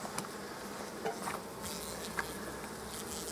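Honey bees buzz at an open hive during wintering preparation, a steady dense hum close by with faint scattered clicks and knocks, no voices.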